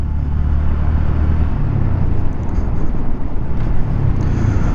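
A Honda Grom 125 motorcycle on knobby tires is ridden at an easy pace, giving a steady, close engine drone with wind rumble and no talking.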